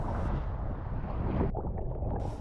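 Paddling strokes on a parawing foil board through cold water on a snowy downwind day, with splashy wash and heavy wind buffeting across the microphone throughout.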